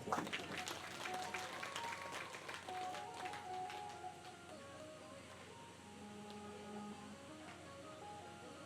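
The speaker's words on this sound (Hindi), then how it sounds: "ताली बजाकर।" Audience clapping at a Hindu religious discourse on the Shrimad Bhagwat Katha, steady applause that is loudest at the start and carries on through the clip, with faint tones in the background.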